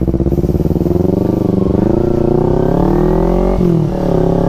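Kawasaki Z250 motorcycle engine running close by, a loud throbbing idle that rises into a smooth rev and dips briefly before settling again.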